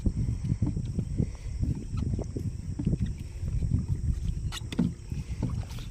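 Steady splashing and dipping of a slightly rough oar rowing a fishing boat at Yanam jetty near Kakinada, with wind rushing across the microphone and soft water sloshing throughout.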